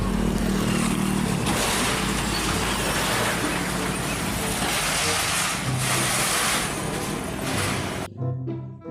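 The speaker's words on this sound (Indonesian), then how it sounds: "Kalau yang ini adalah mobil towing, teman-teman." An empty tow truck's engine running nearby, a broad steady rumble with rising and falling surges that ends abruptly, with occasional faint voices.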